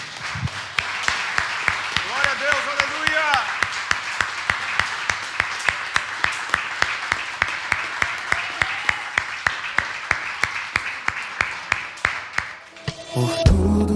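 A church congregation claps in a fast, steady rhythm during worship, many hands close and continuous for over a dozen seconds, with voices over the top before a brief pause at the end.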